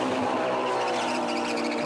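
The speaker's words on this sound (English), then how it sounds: "lighting up the rear tyres." A Lamborghini GT1 race car spins its rear tyres leaving a pit stop, a loud continuous tyre squeal and skid layered over a roaring engine, close and unbroken.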